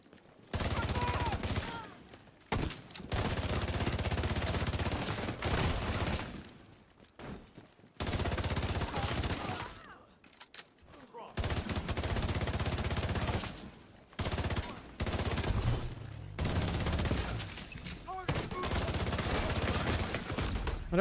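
St. Elmo's shock assault rifle firing in The Division 2, loud rapid automatic bursts broken by short pauses, with a voice talking between some volleys.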